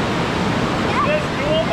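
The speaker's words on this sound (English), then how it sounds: "See, the water is going into the rock and it's digging a hole in the rock." A mountain stream pours into rock near a hidden waterfall in the backcountry, making a loud, close, unbroken roar of rushing water that fills the whole moment.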